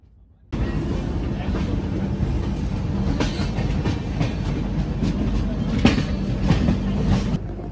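A Howrah–Jagdalpur Express runs on its rails near Sambalpur Junction, starting up suddenly after near silence into a loud, steady rumble with rhythmic wheel clatter and occasional sharp knocks, heard from on board.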